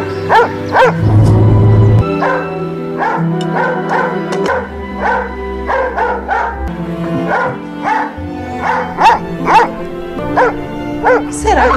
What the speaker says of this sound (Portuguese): Cachorro tem que parar de latir, Neidinha.